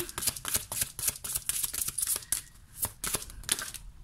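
Tarot cards are shuffled, handled and laid out on a surface, giving a steady stream of soft, close papery flicks and slaps with no talking.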